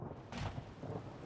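Rain and thunder ambience from the video game Wylde Flowers, a steady wash of rainfall with a soft low rumble and a brief brighter swell, fairly quiet and with no voices.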